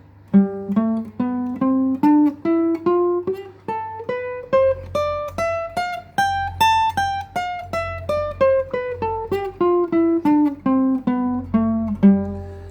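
A single acoustic guitar plays a G Mixolydian scale one note at a time, climbing steadily up and then back down, each note ringing clearly with an even rhythm.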